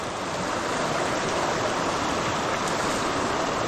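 Heavy water rushes through a drainage canal in the rain, a loud, constant, broadband roar with no pauses and no voices.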